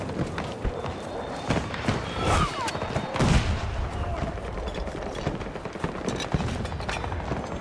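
Gunfire sounds in a video game as a dense, continuous barrage of shots and booms that fills the whole stretch, with no clear pauses.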